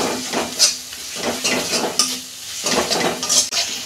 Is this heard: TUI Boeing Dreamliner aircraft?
no